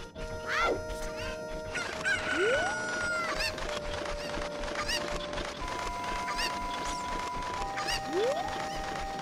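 Chickens from The Legend of Zelda: Ocarina of Time cluck in short squawks scattered across the clip, mixed with game chimes and rising tones over a light background tune.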